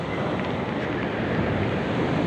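Steady broadband rush of ocean surf at sea near moored boats as the waves grow bigger, continuous and fairly loud with wind buffeting the microphone, no voices.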